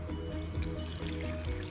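Water trickles and pours steadily into a mint juice mix of mint leaves, salt and sugar, a soft continuous stream under background music.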